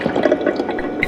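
Water gulps and sloshes as a character drinks in the survival video game Project Zomboid, a brief, close, fairly loud liquid burst lasting about a second with no speech over it.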